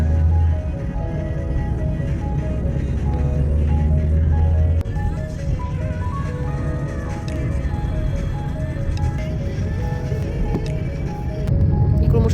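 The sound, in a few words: car driving on a Delhi road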